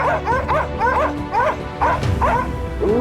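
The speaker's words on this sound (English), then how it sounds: "the hunting dogs barked sharply" Hunting dogs bark sharply at the edge of a forest, a rapid string of yipping, excited barks repeating close by and loud, with overlapping calls and brief pauses.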